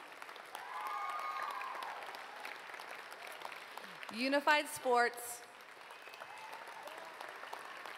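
Graduation audience applauding at a high school ceremony, steady clapping throughout with a brief cheer and an announcer's voice speaking over it midway.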